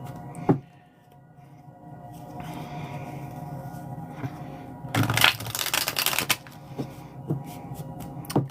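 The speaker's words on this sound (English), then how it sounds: "this deck did not want to shuffle" A stiff deck of playing cards gets shuffled, with soft handling rustles first and then a loud, close riffle burst in the middle followed by a few quieter flicks and taps.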